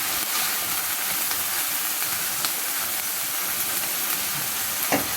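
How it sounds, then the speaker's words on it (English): Garlic, ginger and onion blend frying in hot oil with a steady, bright sizzle and hiss that stays close and even throughout, with a few sharper crackles near the end. "And then my blend of garlic, ginger and onion. Roll it nicely into the oil."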